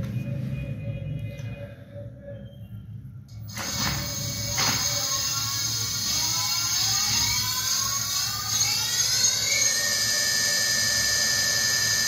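A BLDC electric hub motor from a complete kit spins up under a thumb throttle, its steady electric whine rising in pitch and holding at speed over a low hum, loud and close with no talking.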